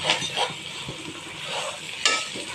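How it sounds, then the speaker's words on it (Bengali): Raw rice for white pulao is stirred and toasted in a pot, with a dry scraping rustle and soft sizzle that swell in a few stirring strokes, with brighter scrapes near the start and end. "এখন আমি চাউলগুলো নেড়ে চেড়ে ভেজে নেব"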